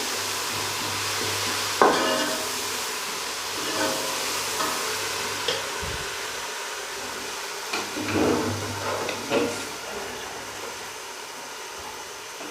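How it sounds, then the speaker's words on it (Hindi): Garlic ginger paste with green chilli paste fries with onions in a pot for Afghani palao, a low sizzle under occasional scraping and stirring knocks from a spoon, close and moderate in level. "और अब इस टाइम मैंने ये डाल दिया लहसुन अदरक का पेस्ट"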